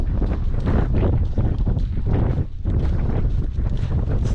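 Wind buffeting a microphone on an open moorland hilltop, continuous gusty low rumble with fluctuating strength and a brief lull partway through, no voices.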